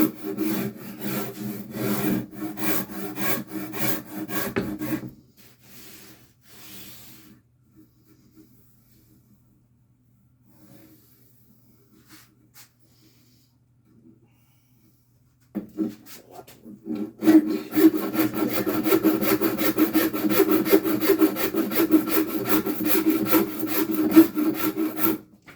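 Filing and shaping a wooden bass guitar neck: steady rasping strokes run for about five seconds, fall to near silence with a few faint scrapes, then resume louder and denser for the last ten seconds.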